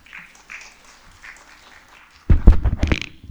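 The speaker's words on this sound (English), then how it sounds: "give a big round of applause for Dr." An audience at a kidney transplant symposium breaks into applause for a doctor, with dense clapping that starts abruptly and loudly after a quiet, murmuring stretch, then continues close and full to the end.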